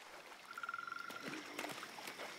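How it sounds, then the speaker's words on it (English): A frog croaks in the video game Baldur's Gate 3, giving a fast, rattling train of pulses for about half a second before other in-game sounds take over. "Oh, ribbit. That's a frog."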